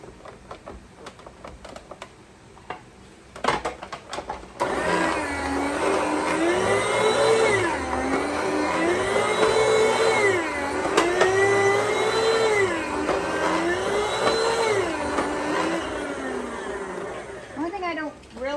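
An electric meat slicer runs steadily while slicing ham, with a continuous motor hum and a whining tone that swells and dips in a regular rhythm as the blade passes through the meat. A voice talks over it.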